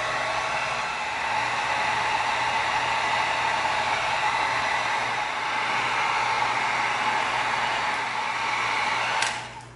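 A heat gun blowing hot air to seal and soften shaped EVA foam, a steady loud whooshing blower drone that holds unbroken for about nine seconds before cutting off, no voices.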